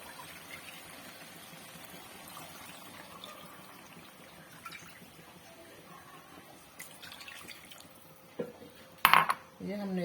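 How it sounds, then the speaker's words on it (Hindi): Water poured into a cooking pot of peas for matar pulao, a faint trickle with metal pot and utensil clinks building to louder clattering near the end. "ये हमने इसमें कर दिया पानी शामिल।"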